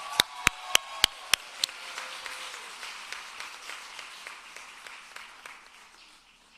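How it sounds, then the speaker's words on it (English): Applause at a Hofstra Northwell School of Nursing pinning ceremony for the class of '26, opening with a few sharp near claps and then settling into a fainter spread of clapping that slowly thins out. "I think this deserves one more applaud and welcome to nursing."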